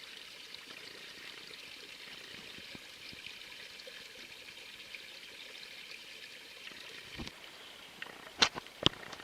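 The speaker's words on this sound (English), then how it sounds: "I just had to get a little bit of this waterfall here." Faint, steady rush of a small waterfall at Otter Creek, with a few sharper splashes or clicks near the end.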